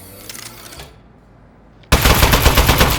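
Aperture Science Turret from the game Aperture Desk Job opens fire after a quiet pause, a loud, dense rapid burst of gunfire that runs without a break to the end.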